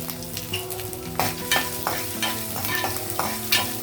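Ginger pieces sizzle steadily in hot oil in a kadai while a spoon stirs and scrapes with repeated clinks, the frying loud and close, while preparing atukula pulihora.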